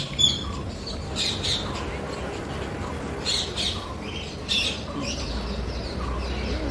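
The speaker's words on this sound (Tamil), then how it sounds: "அதோட சவுண்டு பார்த்திங்கன்னா நிறையா கத்திட்டு இருந்தது" Several common Indian parrots give harsh, scattered squawks and chirps at moderate distance, with a steady background hum and a brief flutter near the end.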